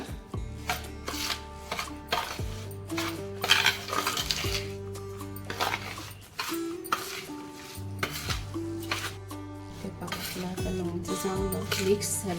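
Raw mango pieces stirred and mixed in a bowl for pickle, with repeated clinks and scrapes of a utensil against the dish under a steady musical background.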